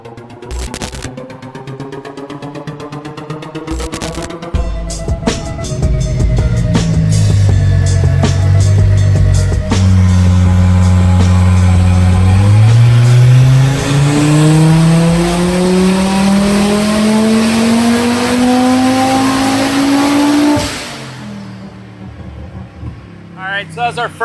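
Audi 2.5 TFSI five-cylinder turbo engine with racing cams on a dyno pull, loud and close, idling then revving steadily upward in a long rising whine to high rpm before cutting off sharply.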